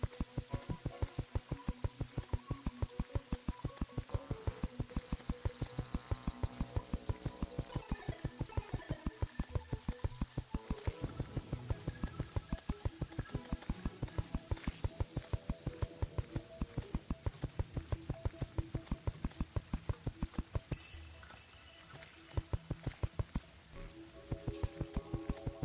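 Rain patters steadily in a video game, a dense, even stream of fine droplet ticks running without pause, quiet and close, with no speech over it.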